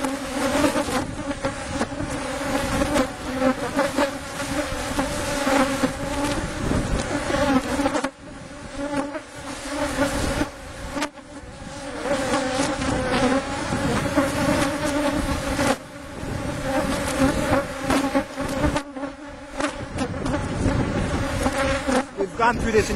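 A honeybee swarm drones steadily in a bee yard of 22 hives, a dense continuous buzz of many insects close by with no talk over it.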